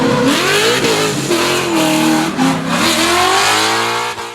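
A Ford Mustang with a 525-horsepower Boss 302 V8 and a six-speed transmission revs hard and loud at a Ford car show, the engine note climbing and falling in sustained, close bursts.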